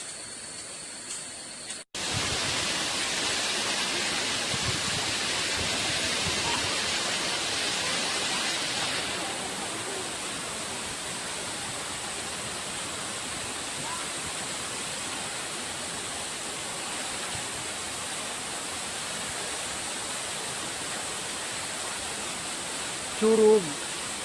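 Curug Ngebul waterfall in Cikadu, Cianjur pours in a steady, broad rush of falling water, loud and constant throughout, with a faint brief tap near the end.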